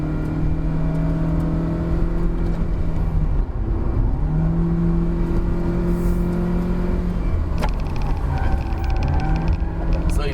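A 2019 Proton Saga's engine accelerates in second gear on a hill climb, a loud steady drone with rising and falling pitch heard from inside the car, the hum filling the cabin without a break.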